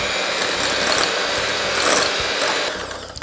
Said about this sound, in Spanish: El primer paso va a ser batir la mantequilla.